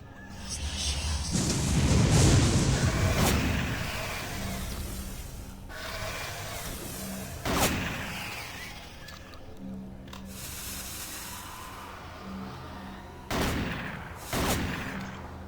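A chain gun in Doom 3 roars in a long, dense burst of rapid fire, followed by scattered heavy impacts and whooshes amid the game's ambient noise.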